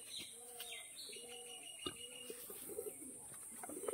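Pigeons in a full loft coo softly with scattered chirps and a light flutter, faint and close-miked over a steady hiss, with no talking.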